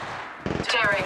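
Gunfire in the Apex Legends Mobile video game: a quick cluster of sharp shots, then a louder, sustained burst, mixed with a voice.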